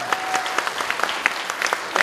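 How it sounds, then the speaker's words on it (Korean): An audience at a gathering gives a warm round of applause, with many hands clapping briskly in a steady dense patter and a few sharper claps standing out near the front. "우리 박수 한번 보내주십시오."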